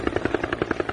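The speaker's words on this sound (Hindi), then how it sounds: "जब भी हेलीकॉप्टर आता है तो हमारा मन जरूर करता है देखने का" A helicopter flies nearby, its rotor giving a steady rapid thumping pulse through a brief moment.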